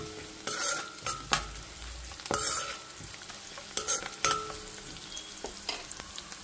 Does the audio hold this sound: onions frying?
yes